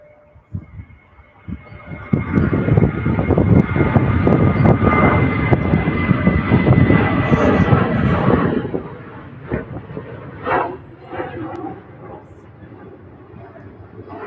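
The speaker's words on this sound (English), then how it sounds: "join the Ryanair flights thrashing down the runway towards their rotation" A Ryanair jet roars down the runway at Manchester Airport on its takeoff run, a loud sustained engine rumble building and holding for several seconds before fading as the aircraft pulls away into the distance.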